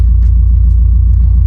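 A Mitsubishi Evo sits idling in traffic, giving a steady, loud low rumble with a faint regular throb and no voices.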